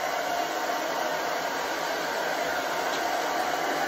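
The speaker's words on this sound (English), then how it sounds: "So I've got hair dryer." A hair dryer drying painted crafts blows continuously at close range, a steady loud whooshing hum with no other sounds.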